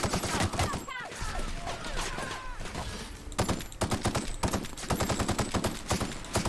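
Rapid bursts of gunfire in The Outer Worlds, loud and dense, with game effects and scattered shots over the first seconds, then sustained rattling automatic fire in the second half.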